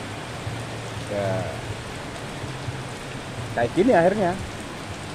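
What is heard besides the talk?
rain falling on a roadside at night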